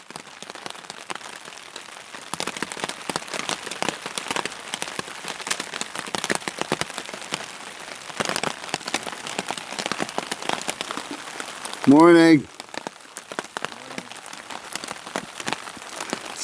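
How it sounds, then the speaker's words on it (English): Steady rain patters on a backpacking campsite with hammocks in the Colorado mountains, a continuous wash of drops through the whole stretch, broken once by a brief voice. "it has been raining all night."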